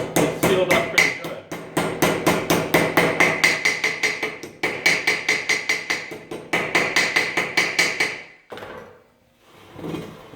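Steady, rapid hammer blows drive a blue-striped grease seal into place during a brake rotor install, dozens of sharp close strikes in quick bursts with brief pauses, ending in a short quiet stretch.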